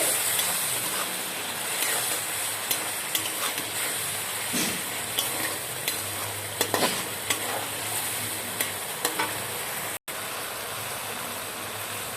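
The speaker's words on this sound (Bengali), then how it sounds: "দিয়ে আমি ভালো করে সমস্ত মশলা আমি কষে নিচ্ছি" Spices for a chicken curry sautéed in a pan with a little water, a steady close sizzle broken by scattered scrapes and taps of stirring, with no talk.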